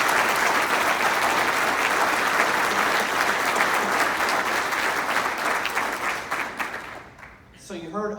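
Audience applause at a city State of the City address, a dense, steady wash of clapping that fades near the end as a voice begins to speak over it.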